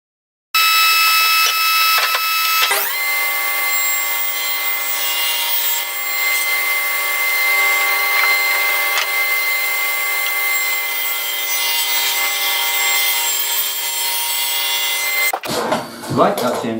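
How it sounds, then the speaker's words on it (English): A power router cuts into pine wood with a loud, continuous high whine and rasping buzz, steady for most of the span before cutting off abruptly near the end. "Now to the router."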